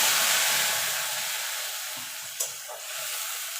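Black cumin seeds and a ground paste of black cumin, white cumin and bay leaf hit hot oil in a fish curry pan, a loud hissing sizzle that slowly fades, with one brief scrape.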